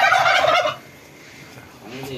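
Turkeys gobble nearby in a loud burst of rapid warbling calls, followed by a quieter pause and a fainter second gobble starting at the end.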